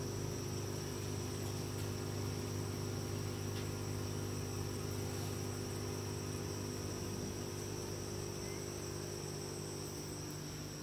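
Crickets kept as live feed for giant water bugs chirp in a faint, continuous, steady drone with a buzzing hum underneath, and no voices.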